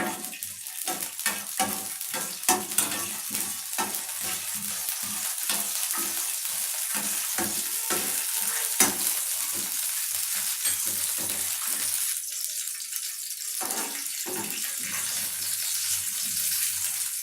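Ingredients for apple kheer roast in a hot pan with a steady sizzle, broken by repeated stirring scrapes and a few louder clatters, with no talk.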